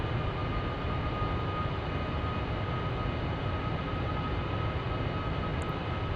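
A Boeing 747-400's jet engines in the Flight Simulator X game give off a steady, broadband roar with a hum held underneath. The sound runs unchanged and continuous throughout.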